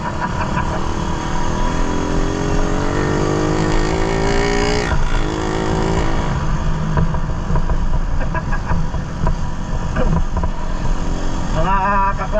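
A Suzuki Raider 150 motorcycle ridden fast gives a loud, steady engine roar whose pitch climbs as it accelerates, then settles into a constant drone, with voices faintly heard over it.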